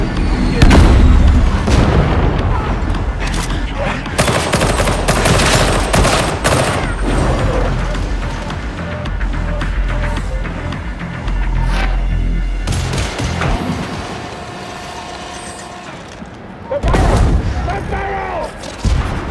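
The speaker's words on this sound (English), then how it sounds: "It's going to explode!" Warhammer 40K Darktide combat roars with heavy booms, blasts and rapid gunfire, loud and dense for most of the stretch, with a brief lull before a final burst and voices calling out over the chaos.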